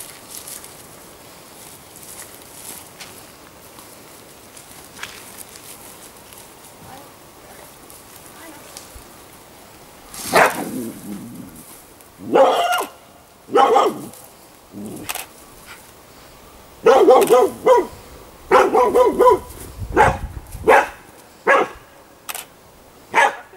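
A dog being put through a behaviour test outdoors barks in several short bursts, close and loud, after a quiet stretch of faint background sound; no one speaks clearly over the barking.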